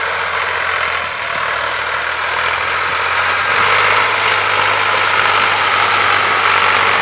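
A Ford 4560 tractor engine runs steadily at around 1600 to 1700 RPM, a loud, even, close drone with a low hum and no talk over it.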